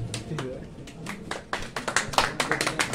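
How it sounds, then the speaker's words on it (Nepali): An audience at a felicitation programme claps in scattered then building bursts of sharp hand claps, moderately near, with a voice speaking underneath. "एउटा ताली बजाउनु"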